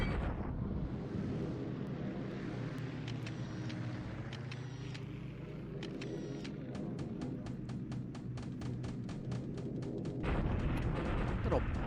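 Bombing in War in the Pacific, a low rumbling barrage with a rapid train of sharp impacts toward the end and a loud burst at the close, steady and moderately loud.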